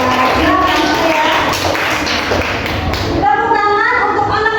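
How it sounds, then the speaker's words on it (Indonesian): Schoolchildren in a classroom applauding group 4, a loud, dense clatter of many hands with thumps and chatter, giving way to voices near the end. "Kasih tepuk tangan untuk kelompok 4."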